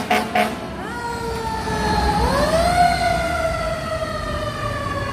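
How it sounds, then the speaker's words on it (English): A fire truck siren wails through Manhattan traffic near Columbus Circle in New York City, its loud rising and falling tone sweeping up and down over steady street noise. "Oh, look, that fire truck is going crazy."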